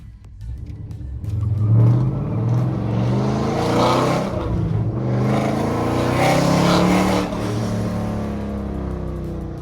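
A Dodge Challenger with a Stage 2 cam roars close by, the engine revving hard and swelling to loud peaks then settling, with a rumbling low growl throughout and no talk.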